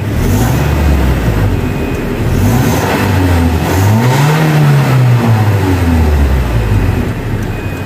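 A 2011 Toyota Kijang Innova with a 2000cc engine revving up from idle, a loud close-up engine note rising and falling through several throttle blips.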